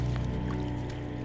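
Footsteps squish and squelch through shallow, stagnant floodwater of wasted irrigation in a drought-hit wheat-farming area, soft wet slosh and drips over a steady low hum.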